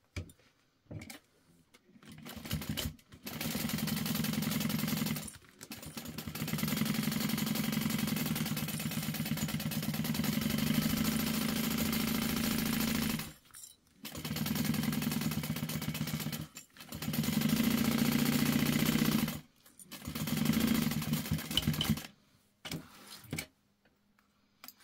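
A sewing machine basting layers of a tote bag together, several bursts of steady mid-pitched whirring stitching separated by short pauses, fairly quiet and close.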